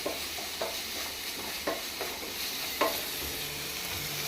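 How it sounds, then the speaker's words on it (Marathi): Garam masala and spices frying in a pan for chole, a soft steady sizzle with a few light scraping strokes as the mixture is stirred. "बरे एक मिक्स करून बरो ताका फ्राय करून घेवपाचो मसालो"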